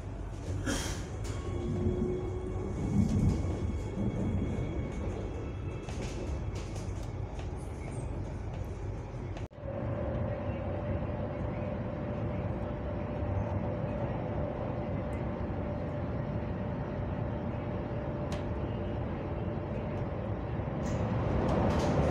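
A New Delhi metro train runs steadily between Dhaula Kuan and Delhi Aerocity stations, a continuous loud rumble with a faint high tone, and a brief dip partway through.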